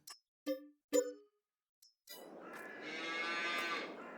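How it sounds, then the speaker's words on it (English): Cows in a giant barn in the Farming Simulator map Weyauwega, Wisconsin: several short separate calls, then a long, loud, sustained moo that carries on to the end, with no talking. "So, giant barns, lots of cows."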